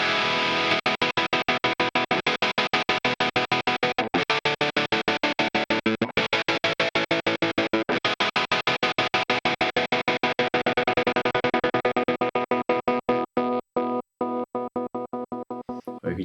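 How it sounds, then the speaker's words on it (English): A Boss SL-20 Slicer chops a sustained sound into a fast, strictly rhythmic tremolo pattern of sharp on-off pulses that runs steadily, then turns choppier and irregular toward the end, loud and with no voices. "It has your basic tremolo sounds."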